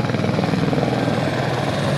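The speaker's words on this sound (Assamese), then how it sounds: "এয়া দেখিছে হেলিকপ্টাৰ আহি আছে আৰু হেলিকপ্টাৰ আহি ইয়াতে অৱতৰণ কৰিব" A helicopter approaches a landing site on the Amarnath pilgrimage route, its loud steady rotor chop and engine drone filling the air without pause.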